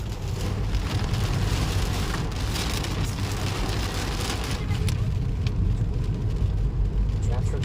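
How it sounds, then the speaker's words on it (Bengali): Heavy storm rain drums steadily on a vehicle while it drives along a road during a thunderstorm, a dense continuous wash of rain noise over low engine and road rumble throughout. "মাঝপথে ঝড় বৃষ্টি বজ্রপাত"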